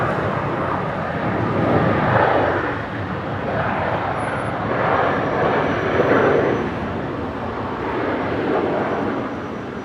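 An airliner on its takeoff roll from runway 19 left at Brisbane, a loud sustained jet roar swelling and easing in broad waves over about ten seconds, heard at a distance without talk.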